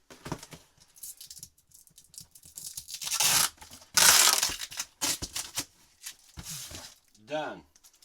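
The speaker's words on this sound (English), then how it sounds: "And tape." Packing tape is pulled and torn while a box of closet items is sealed, with several loud ripping bursts and crinkling close by, followed by a brief voice near the end.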